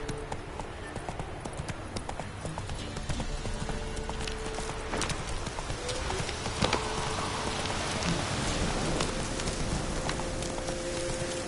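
Hooves of the horse Roach clip-clopping in The Witcher III, a steady rhythmic trot over a wet, rain-like patter, fairly faint and continuous.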